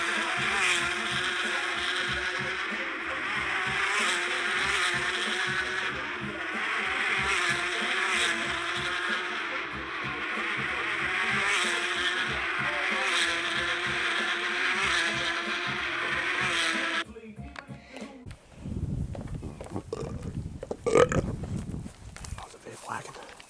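A Holden Series 1 with a 3.6 litre LFX direct-injection V6 runs with a steady, pulsing engine note for several seconds. The engine then cuts off abruptly, and scattered handling noises follow.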